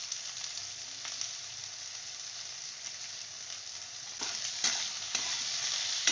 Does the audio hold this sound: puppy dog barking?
no